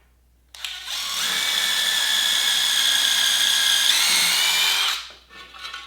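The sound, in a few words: drill pre-drilling holes in aluminum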